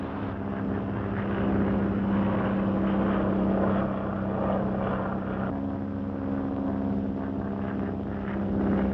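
A squadron of propeller bomber aircraft passes overhead in a 1939 war film, a steady loud droning engine roar with a pitch shift partway through, continuous and without speech.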